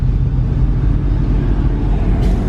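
A 2007 Ford Mustang's engine rumbles with a deep, steady idle, close and loud, holding an even throb throughout with no voices.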